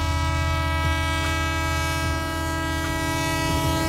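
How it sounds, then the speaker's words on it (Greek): Train sound from the rooftop train fight scene in Spider-Man 2: a steady loud rumble of the train with a sustained horn or whistle tone running throughout, along with repeated rhythmic clanks of the wheels on rails. "Πάμε στην επική σκηνή της μάχης πάνω στο τρένο."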